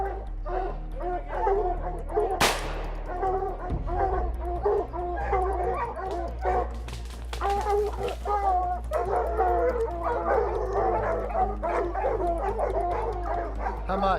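Hunting dogs bark and yip repeatedly at a downed adult black bear sow in the New Hampshire woods, a close, busy chorus of overlapping barks with a sharp knock partway through.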